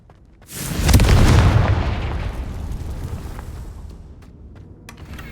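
A single loud, deep explosion from the Confringo spell in Hogwarts Legacy bursts in after a short pause, then rumbles and slowly decays over several seconds.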